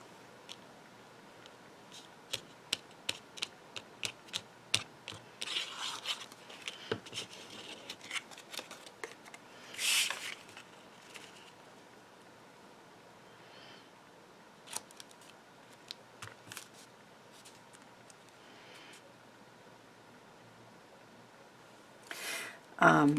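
Scissors snipping out a stitched card layer for a hexagon papercraft project, quiet close clicks and short cuts scattered irregularly, with some paper rustling and a few louder handling noises.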